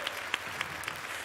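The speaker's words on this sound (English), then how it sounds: "Round of applause for the Drake Music team" Audience applause at a Drake Music artist showcase, a short, fairly faint burst of clapping from a small crowd with a few sharper claps standing out, no talk over it.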